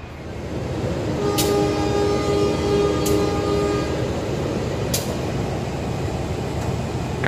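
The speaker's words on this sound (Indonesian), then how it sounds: "KA Doho tujuan Blitar berangkat kembali dari stasiun Perjodangan." The KA Dhoho train pulls out of the station bound for Blitar. Its engine rumbles loud and steady with a sustained tonal drone, and three short sharp bursts ring out at intervals over the continuous rolling noise.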